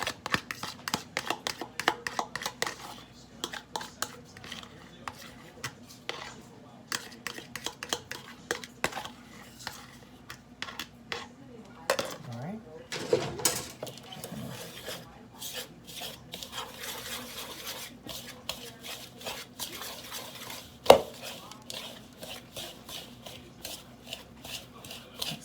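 Egg, sour cream and melted butter being mixed together by hand for keto rolls, heard as a long run of soft rhythmic scraping and tapping of a utensil against a bowl, close and quiet, with a sharper knock near the end.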